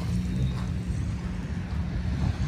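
Water gushing and churning at the Manila Bay shore by Dolomite Beach, a steady low rushing roar with wind noise and no break over the short span.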